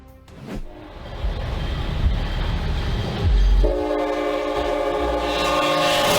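A train rumbles past with heavy low noise as it approaches a public bus stuck on the tracks, then a loud sustained horn blast joins in and holds to the end.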